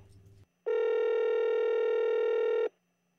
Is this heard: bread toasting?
no